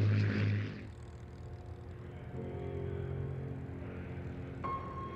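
Rolls-Royce Merlin engines on a Hurricane and a Mark II Spitfire give a steady, distant propeller drone that holds at a moderate level, with a brief louder rush at the start.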